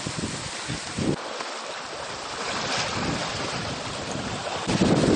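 Wind and waves at sea off the coast of Galicia, heard from a sailing boat: a continuous broadband rush with gusty buffeting on the microphone and surging swells, no voices.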